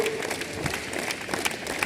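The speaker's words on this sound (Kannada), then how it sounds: "ಮಕ್ಕಳು ಚಪ್ಪಾಳೆ ಮೂಲಕ ಕ್ರೀಡಾ ಜ್ಯೋತಿಯನ್ನ ಸ್ವಾಗತಿಸಿದ್ದು" Children at the Marikamba Dasara school sports meet in Sirsi clap to welcome the arriving sports torch, a dense, fairly distant patter of many hands, steady and faint throughout.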